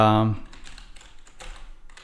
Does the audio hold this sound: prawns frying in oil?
no